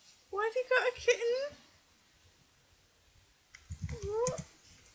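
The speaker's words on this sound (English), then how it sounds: "Why have you got a kitten?" A kitten meows in two rising, wavering cries, close and clear, separated by a short pause.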